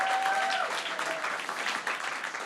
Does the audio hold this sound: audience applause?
yes